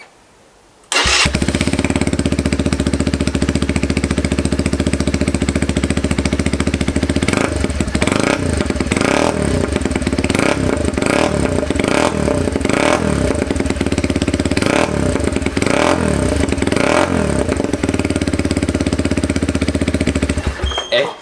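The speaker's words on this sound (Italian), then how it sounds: "andiamo subito ad accendere la moto" A Keeway TXM motorcycle fitted with a full Black Widow exhaust fires up and idles loudly with a deep, rumbling note, then blips the throttle repeatedly in sharp revs.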